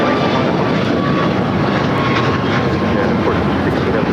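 An Airbus airliner departing LAX runway 25 right, its engines a steady, loud broadband roar that holds evenly throughout with no talk over it.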